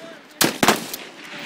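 Two sharp gunshots crack in quick succession at a private shooting range, where shooters aim at far targets, followed by a fainter pop and outdoor ambience.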